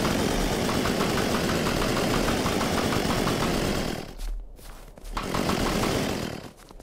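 Small vehicle engine in Unturned, idling with a steady rough rumble that runs loud and continuous, then briefly drops out twice before returning.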